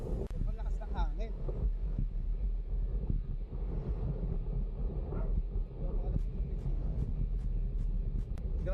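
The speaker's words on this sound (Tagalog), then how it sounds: "Grabe yung hangin." Strong wind buffets the microphone of a bicycle on the road at Pakil, Laguna, in a steady, roaring rumble, with what sounds like a passing vehicle mixed into the gusts.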